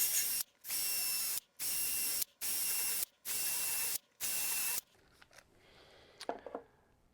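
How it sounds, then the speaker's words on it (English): A tool widens the tuner holes in the headstock of a Harmony Model 02814 guitar, heard as five loud, even bursts of harsh grinding separated by short pauses. Faint clicks and handling noises follow. "let's widen out these holes to fit our new tuners"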